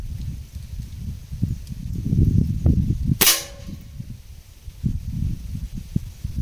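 A single sharp crack from a Gamo Speedster IGT or Crosman TR77 NPS air rifle firing a 0.56-gram pointed pellet rings out once midway, over low rustling and handling noise, with no talking.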